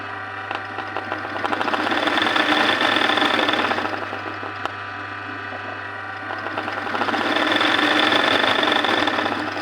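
An embroidery sewing machine stitching at a steady, rapid mechanical rhythm, loud and close, with the motor hum and needle clatter swelling and easing across two long runs.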